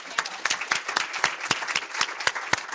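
Audience applause at a health conference on e-cigarettes in Kentucky: a short burst of steady clapping from a modest crowd, close and even, with no voices over it.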